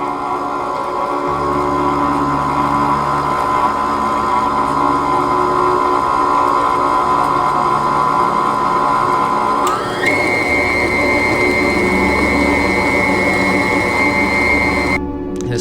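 A stand mixer with a dough hook works sourdough dough, a steady loud motor whine that shifts up in pitch partway through as the speed increases, with a brief clatter near the end.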